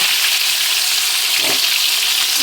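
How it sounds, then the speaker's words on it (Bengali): Eggs and potatoes fry together in very hot oil with a loud, dense, steady sizzle close at hand, briefly stirred partway through. "ডিমগুলো ভেজে তারপরে আলুটা ভাজবো।"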